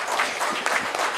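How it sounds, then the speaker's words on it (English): A conference audience applauds the speakers after a session, a brief dense burst of many hands clapping close up with no gaps. "big round of applause for the all speakers."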